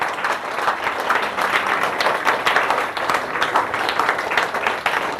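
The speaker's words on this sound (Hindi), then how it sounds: "उसके लिए एक जबरदस्त ताली बजाइए।" Steady audience applause, a dense wash of many hands clapping at a constant level throughout, no voices standing out.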